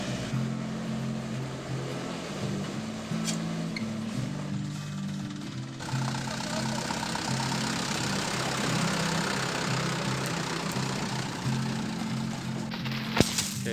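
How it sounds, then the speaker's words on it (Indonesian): Tractor engine running at a steady idle-like chug while towing a stuck truck in Lombok, a continuous medium-loud drone with a short gap midway and a brief knock near the end. "Jadi ini truk yang tadi stuck barengan ditarik pakai traktor."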